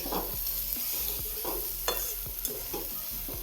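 Chili powder and salt are stirred into matki bhaji, a sprouted moth bean dish, in a pan: a steady sizzle with repeated scraping strokes of a spoon at an irregular rhythm, close and moderately loud.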